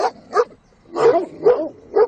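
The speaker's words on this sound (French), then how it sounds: "Des patous, des chiens des Pyrénées." Pyrenean mountain dogs, livestock guardians protecting sheep from wolves, bark close and loud in a quick series of about five deep, rough barks.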